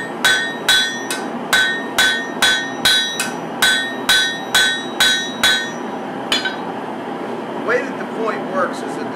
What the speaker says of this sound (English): now I'm going to forge the point itself.